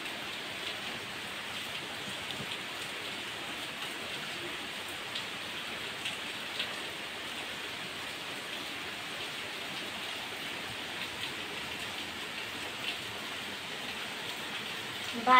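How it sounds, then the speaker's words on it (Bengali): Heavy rain falling outside a house, a dense steady hiss of drops on surfaces that holds constant and close throughout, with no one speaking. "দেখুন কি জোরে বৃষ্টি হচ্ছে"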